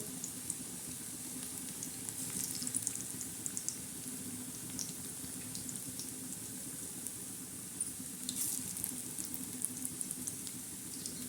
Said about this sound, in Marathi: आता हे भजे असे आपले खमंग असे मस्त तळत आहे